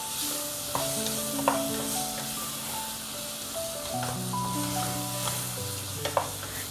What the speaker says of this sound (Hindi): टमाटर ऐड करने के बाद 2 से 3 मिनट तक इसको मैं भूनूंगी